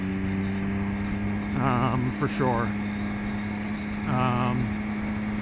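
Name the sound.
Triumph Speed Triple R motorcycle engine running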